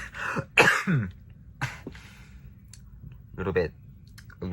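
A few short, sharp coughs burst out separately over about four seconds, close and fairly loud, with quiet pauses between them.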